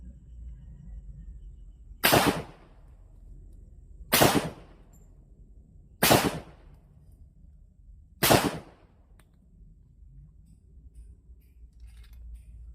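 Four sharp gunshots fired one at a time about two seconds apart during an anting-anting (amulet) shooting test in Cavite, each a loud crack with a short decay over a quiet background.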